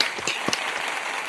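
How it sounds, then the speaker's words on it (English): A short, thin round of applause at a talk event about global jobs for African talent, a handful of scattered claps that fade quickly into room noise. "let's give him a round of applause."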